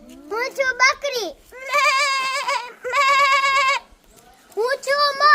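A child imitates a goat, voicing several drawn-out quavering bleats in a row, loud and close with short pauses between them.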